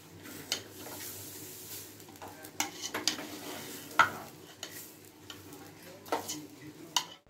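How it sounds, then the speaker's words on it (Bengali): Rice for vegetable pulao is stirred and lightly fried in a pan over a low gas flame, with soft sizzling beneath repeated scraping clicks of a spoon against the pan. "এইবার আমি এই চালটা গ্যাসটা সিমে দিয়ে হালকাভাবে ভাজা ভাজা করব।"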